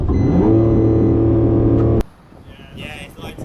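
Lamborghini Revuelto engine revving hard and steady for two seconds, loud and close, then cutting off abruptly, leaving quieter ambient noise with faint voices in the background.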